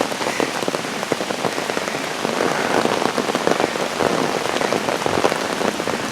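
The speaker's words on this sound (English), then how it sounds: "And it just started raining." Steady rain falls on a muddy hiking trail, a dense, even patter of drops close by with no voices.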